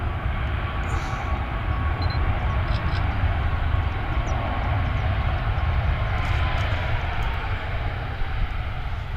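An airliner landing on runway 23 at Manchester roars under full reverse thrust on a damp runway, a loud, steady, broadband rush that holds unbroken for the whole stretch.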